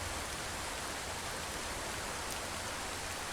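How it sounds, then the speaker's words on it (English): Steady monsoon rain pours down in Bangladesh in front of a small room, a dense, even hiss of falling drops that holds unbroken throughout with no voices. "You see drops of rain? This is"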